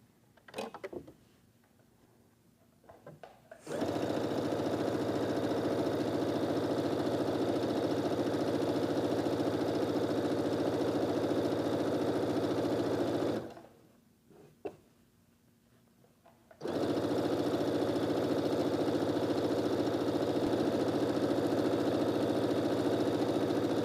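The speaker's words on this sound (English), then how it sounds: "with that 1/4 inch seam, we're gonna stitch right down the line" Sewing machine stitching quilt strips with a 1/4 inch seam, its steady motor whir running in two long bursts separated by brief pauses, close and even throughout.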